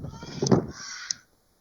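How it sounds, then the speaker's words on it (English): A parrot squawks in the background, giving harsh, raspy caw-like cries, two sharp bursts that stand out over a muffled room with no talk. "Oh no, it's a stupid parrot."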